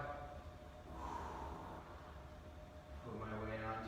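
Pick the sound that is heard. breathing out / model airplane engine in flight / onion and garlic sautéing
breathing out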